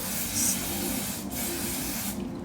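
A continuous close aerosol hiss of hair spray applied to a frontal wig, lasting a couple of seconds, loud and steady with slight fluctuations.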